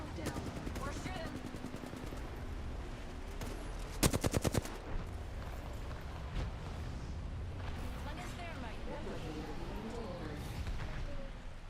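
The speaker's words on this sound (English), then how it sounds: "We're shooting." Gunfire in the battle royale game Apex Legends, a quick burst of rapid automatic shots around the middle amid ongoing game sounds and background noise.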